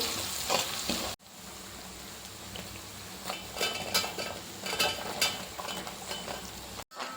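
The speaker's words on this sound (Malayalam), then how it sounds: "ഇനി നമുക്ക് സവാള നന്നായിട്ടൊന്ന് വഴറ്റിയെടുക്കാം" Two medium onions, finely chopped, fry in a pan for Kerala-style chilli pork with a steady close sizzle, broken by occasional scrapes and clinks of a stirring utensil against the pan, with no talking.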